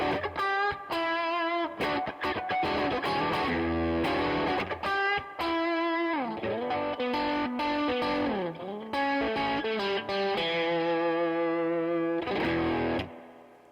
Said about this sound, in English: That's like a little overdrive with the single coils.